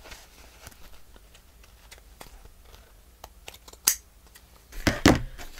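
Scissors trim paper with faint, scattered snips, then two louder, closer cuts near the end, in a quiet room without voices.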